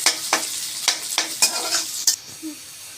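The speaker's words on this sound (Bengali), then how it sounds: "দিয়ে এখানে পেঁয়াজ কুচি দিয়ে দিচ্ছি, দিয়ে পেঁয়াজটাকে একটু লাল লাল করে ভেজে নিব" Chopped onions fry in oil in a wok while being stirred, with a regular run of about eight sharp scraping strokes over a sizzling background, near and fairly loud, no talking.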